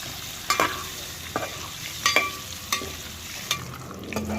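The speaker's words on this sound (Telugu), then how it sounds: "నూనె ఏడైంది, గుడ్లు వేసేస్తున్నాను. వీటిని ఇప్పుడు బాగా వేసుకోవాలి." Eggs sizzling in hot oil with turmeric over a wood-fired stove, a steady frying hiss broken by sharp scrapes and knocks of a spoon stirring the pan every second or so, close up with no talk.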